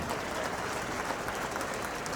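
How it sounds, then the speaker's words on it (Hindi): An audience applauds to welcome the chief guest at an SDRF battalion building inauguration ceremony in Dehradun, Uttarakhand: dense, steady clapping from a crowd that continues evenly throughout. "कृपया तालियों के साथ सबका स्वागत करें।"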